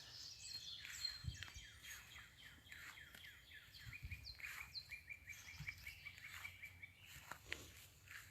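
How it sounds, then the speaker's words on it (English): Several birds chirp and tweet outdoors in a yard in early spring, in quick, overlapping calls, fairly faint and distant, with no voices. "the birds are so loud"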